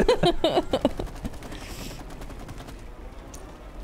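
Goop-shooting blasts fire from a weapon in the video game It Takes Two, a quick rapid burst of wet splattering shots up front that fades into a softer, busy game-action wash afterward.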